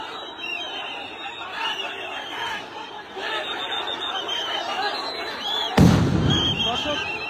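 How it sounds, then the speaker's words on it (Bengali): Police sound grenade thrown at BUET students during a protest: one sharp, loud blast bursts out near the end over a steady roar of crowd noise and chatter. "দফায় দফায় সাউন্ড গ্রেনেড নিক্ষেপ করা হচ্ছে শিক্ষার্থীদের উপর"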